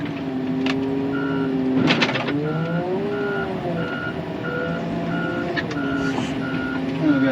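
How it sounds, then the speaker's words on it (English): An excavator works at a pond dam, its engine droning and shifting pitch while a reversing alarm sounds a regular series of beeps over it, with a few clanks of machinery in between. "Pick out what I want with the excavator."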